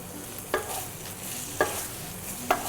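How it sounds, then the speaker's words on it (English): Spices fry in a pan with a constant hiss of sizzling, and a spoon scrapes through them three times at roughly one-second intervals, close and fairly loud. "give that another stir"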